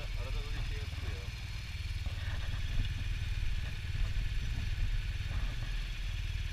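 A KTM 1190 or BMW R1200GS motorcycle engine runs steadily with a low, continuous rumble throughout, fairly close, with some clatter and faint voices in the background.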